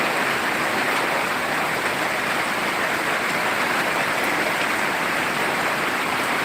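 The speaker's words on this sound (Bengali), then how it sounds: "বৃষ্টির দিনে খুব খুব ভালো লাগে বৃষ্টিটা আসলে খুব খুবই প্রয়োজন ছিল" Steady rain falls in Sirajganj after a long heatwave, a dense, even hiss of drops that stays loud and unbroken throughout, with no voices.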